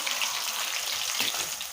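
Onions and green chillies frying in hot oil in a pan for an ivy gourd fry, a steady close sizzle with bubbling crackle and no talking.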